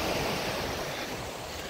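Sea waves wash steadily onto the shore, a continuous broadband surf roar with light wind noise, close and unbroken, with no voices.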